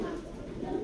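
Racer pigeons give a brief low coo, close by and partly under a voice.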